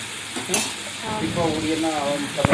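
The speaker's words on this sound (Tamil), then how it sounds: "நம்ம அப்படியே வந்து கிண்டி விட்டுடலாங்க" Pepper masala is stirred in a pan as it fries on a tava, with a steady sizzle and scraping strokes close by, plus a sharp clink near the end.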